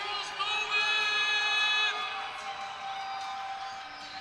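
A rowdy crowd cheers and whoops at a gymnastics intrasquad meet, a steady roar of voices with shouts rising over it, strongest early on, then settling into a busy background.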